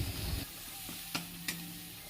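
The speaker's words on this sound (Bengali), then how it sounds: "মশলাটা পাঁচ মিনিট আবারও কষবো" Ground cumin and coriander spices stir-fry in a pan for a sea chanda fish curry, giving a soft, steady sizzle with a muffled scrape at the start and two brief sharp clicks of the spoon against the pan.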